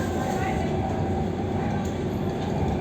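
Airport Rail Link train riding to Suvarnabhumi Airport in Bangkok: a steady, loud interior rumble and rolling hum runs continuously, heard from inside the carriage.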